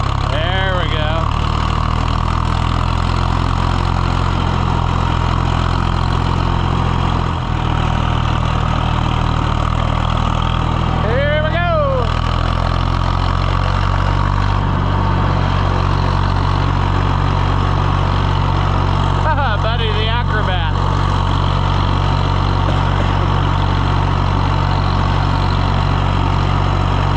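A John Deere 1020 tractor engine runs steadily in road gear with a continuous low rumble throughout, while a voice talks intermittently over it.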